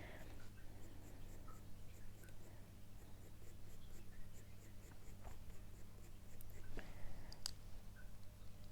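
A 2H graphite pencil sketches fine fur hairs on paper in quiet, steady scratchy strokes, with a few sharper clicks near the end over a low background hum.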